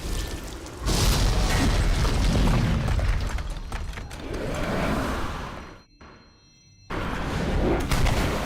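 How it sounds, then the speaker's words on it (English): In God of War, Kratos brings a whole arena crashing down: loud, sustained booming rumble and debris crashes, a sudden near-silent gap, then the heavy roar resumes. "Kratos smashes the entire arena down upon him"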